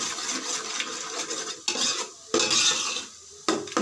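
Ground ginger, garlic, onion and tomato paste being stirred into a mutton biryani pot, with several sharp scraping clatters of a metal spoon against the pot and a soft sizzle between strokes, close and alone.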